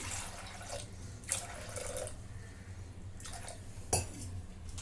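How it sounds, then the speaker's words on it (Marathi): Water poured into a pot of soaked, washed dried green peas, heard as a few splashy bursts and trickles over a low steady kitchen hum, with no voices. "आता ह्याच्यामध्ये पाणी ओतते"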